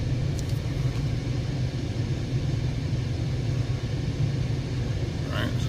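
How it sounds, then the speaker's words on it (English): A Ford Explorer truck's engine idles roughly with a lean-running fault, producing a steady low rumbling drone close by with no speech over it. "Right, so the truck is shaking right now."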